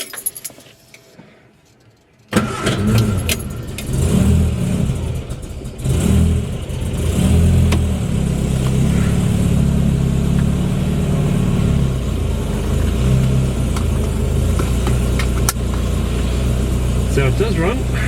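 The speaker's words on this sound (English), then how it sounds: "Okay, so let's go for a wee test drive" A supercharged Morris Minor starts up after keys jangle, then its engine revs and drones steadily on a test drive with a new exhaust, sounding rough, while a person talks over it.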